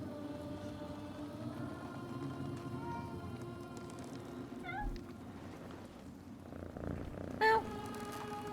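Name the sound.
cat purring when petted in Mandragora video game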